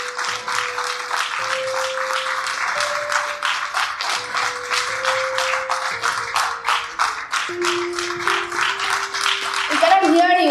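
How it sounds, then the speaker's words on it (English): Audience applause at the opening ceremony of a telecom officers' union circle conference in Calcutta, a dense steady clapping from a large hall crowd lasting throughout, with sustained tones and a brief louder burst at the end. "very big round of applause, please."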